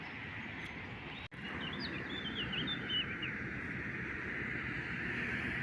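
Birds chirp and sing during a morning walk in Kraków, several quick high calls over a steady outdoor hum of traffic and wind, one brief sharp knock near the start.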